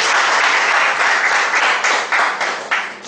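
A large audience at a speakers' forum gives a loud, continuous round of applause to welcome a speaker, dense clapping sustained throughout with slight surges.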